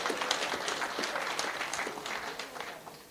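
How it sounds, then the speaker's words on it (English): An audience at a school rationalisation and realignment programme session breaks into steady applause, a dense even patter of many hands clapping that holds at moderate loudness throughout without voices. "Give them a very big round of applause."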